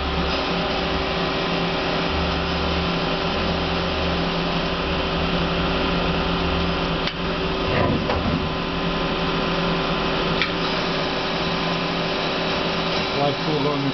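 Hardinge Quest 10/65SP CNC turning center from 2003, spindle running at speed with coolant on, a steady loud machine drone and hum with a slight shift partway through, continuous and close.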